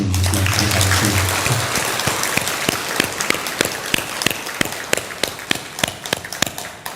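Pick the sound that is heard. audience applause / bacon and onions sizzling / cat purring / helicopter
audience applause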